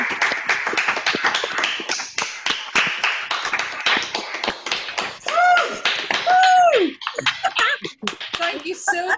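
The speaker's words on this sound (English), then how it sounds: "If everyone can unmute and just give a big clap and whoops and cheers for all of our" An online audience unmutes to applaud storytellers at a solidarity event, producing a scattered patter of claps from many separate microphones, with whoops and cheering voices rising over the clapping partway through.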